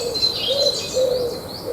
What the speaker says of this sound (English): looks like just birds I'm unfamiliar with, like different kind of bird song and chattering